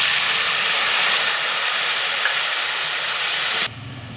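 Spice paste of green chili, cumin, ginger and tomato sizzles loudly in hot oil, a steady broad hiss that holds for several seconds before dropping abruptly to a quieter simmer near the end.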